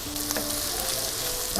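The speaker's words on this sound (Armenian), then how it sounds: "խոշոր քերիչով քերում եմ գազարը եւ տապակում ենք նաեւ գազարը" Grated carrot, onion and garlic fry in a pan with a steady, close sizzle, and a few light stirring scrapes sound over the hiss.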